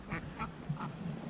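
Several ducks quack at a dam, short nasal calls repeating at a moderate distance over steady outdoor background noise.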